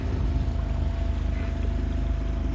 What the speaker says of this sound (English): Looks like we got a nice, maybe grady white boat coming up here